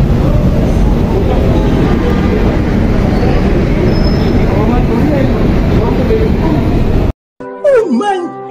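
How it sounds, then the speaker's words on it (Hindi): An Orange Line metro train rumbles at a station in Lahore, a loud continuous rolling drone with faint squeals for several seconds before cutting off abruptly, followed by a brief burst of talk. "ऑरेंज लाइन की तरफ बैठने के लिए जा रहे हैं।"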